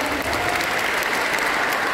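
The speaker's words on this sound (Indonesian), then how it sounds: "Tepuk tangan dulu yuk teman-teman buat kawan-kawan panitia" An audience at a youth talk gives sustained, dense applause for the event organizers, with continuous clapping filling the hall and no voices on top.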